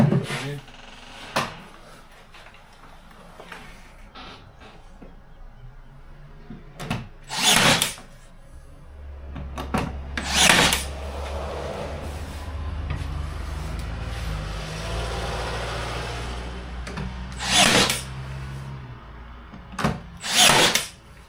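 Short bursts of a power drill driving screws into a battery box for a Toyota Coaster conversion, several sharp whirring spurts spaced apart with clunks and handling noise in between, close and fairly loud.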